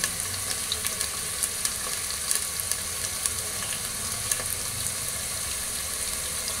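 Onion paste sizzles in a pan for Bengali beef kosha, a steady close frying hiss with faint scattered stirring clicks throughout.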